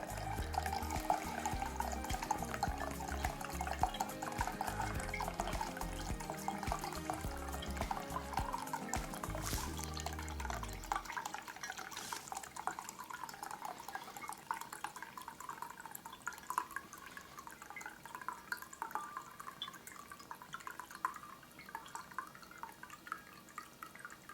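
Maker's Mark bourbon being poured for homemade vanilla extract, a bubbling, gurgling liquid stream that flows for about ten seconds, then gives way to quieter drips and faint handling sounds.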